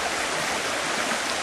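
Water sloshes and swishes continuously in a gold pan being shaken sideways, a close, rushing wash of splashing with no pauses.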